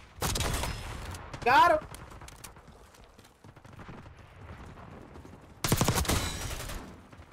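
Jackal PDW submachine gun in Black Ops 6 firing loud rapid bursts near the start and again near the end, with a player talking and game sounds in between.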